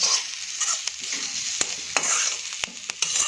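A spoon stirs quinoa upma as it cooks in a hot pan, giving a steady close-up scraping and sizzling with irregular sharp clicks of the utensil against the pan, and no talking.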